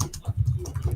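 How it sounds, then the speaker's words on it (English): Fast, furious typing on a computer keyboard picked up over a live-stream microphone, a dense irregular patter of close key clicks with no talk. "And he's typing furiously."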